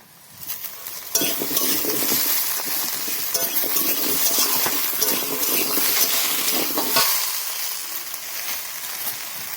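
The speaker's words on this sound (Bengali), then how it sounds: "অল্প পেঁয়াজ বাটা, টমেটো, টমেটো দিয়ে কষিয়ে নেব" Ginger-garlic paste with onion and tomato sautéing in a pan for an egg curry, a steady close sizzle and fry with stirring and utensil scrapes that swells to full strength after the first second and holds without speech.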